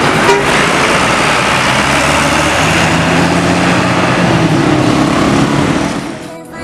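A Gunung Arta Scania Tronton bus rolls into Terminal Pasar Jumat with a loud, sustained engine rumble, and its horn toots in a brief tonal blast amid the busy terminal noise.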